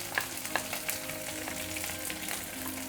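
Onions frying in mutton fat for a soybean and chickpea dal, a steady close sizzle with light clicks of stirring throughout.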